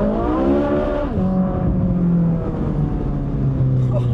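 A Ferrari 458 Speciale engine pulls hard while driving, its strong harmonic howl climbing in pitch, easing briefly and then building again. The sound is loud, close and steady.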